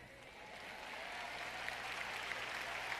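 An audience at a French-language Christian teaching session applauds faintly and from a distance, a soft wash of clapping that swells slightly over the span above a low steady hum.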